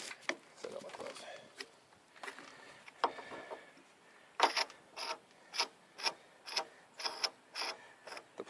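A hand-spun idler pulley with badly worn bearings on a 1995 Dodge Neon engine gives a rough grinding rattle, then a rapid run of sharp ratcheting clicks that slow as it stops, close and fairly quiet.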